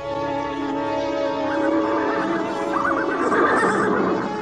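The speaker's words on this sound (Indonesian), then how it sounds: "Tidak perlu, sebab kuda kita berbeda dengan kuda Jalai" Horse whinnying loudly in an Indonesian radio drama, a long wavering neigh that rises and trembles across the whole clip, close and alone with no talk.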